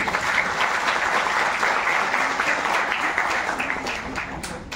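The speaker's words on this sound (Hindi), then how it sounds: "आप जोरदार तालियां बजाएंगे।" A crowd at a Buddhist gathering in Nagpur gives loud, sustained applause, dense clapping filling the space and slowly fading toward the end.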